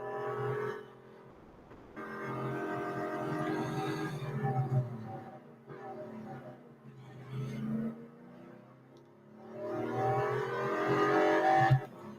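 A racing car engine in Real Racing 3 roars through a lap, rising and falling in pitch as it revs through gear changes, steady and moderately loud with brief dips between accelerations.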